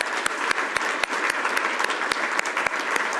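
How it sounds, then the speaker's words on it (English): Audience applause at a health economics congress closing plenary in Basel, a dense steady patter of many hands clapping with a few sharper claps standing out, filling the room without any voices. "Please, let's give them a round of applause."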